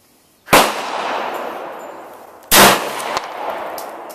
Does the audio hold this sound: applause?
no